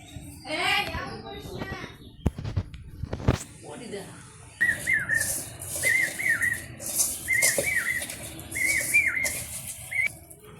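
Village birds call outdoors in a repeated series of short, bright chirps that grow more regular in the second half, with a person talking near the start.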